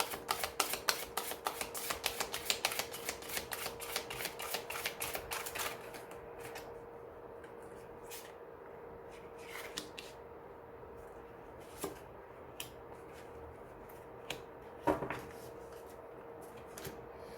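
Tarot cards being shuffled and handled, a quick run of crisp riffling clicks up close, then softer scattered taps and slides as cards are laid out in a quiet room.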